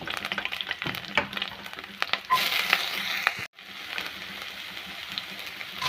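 Mustard seeds, chopped garlic and ginger sizzle and crackle in hot oil, loud and close, with sharp pops, a surge of hissing midway and a sudden brief drop before the frying resumes.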